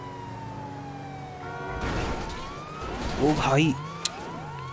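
A police car siren in GTA 5 wails in rising and falling sweeps amid game engine noise, while someone talks over it.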